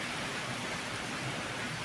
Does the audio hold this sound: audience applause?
no